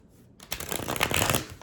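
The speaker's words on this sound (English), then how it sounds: "That was a bad shuffle." A short, brisk tarot card shuffle: a quick riffle of cards close up after a moment of near silence.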